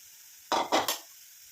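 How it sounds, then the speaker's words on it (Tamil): Amla powder mixture stirred in a pot, a few quick scraping strokes of a spoon in close succession, heard alone against quiet background. "நல்லா கலந்து விட்டுருங்க"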